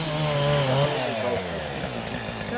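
Chainsaw felling teak trees in a plantation, a loud close engine whine that bogs and shifts pitch as the chain bites into the wood, steady throughout with no talk.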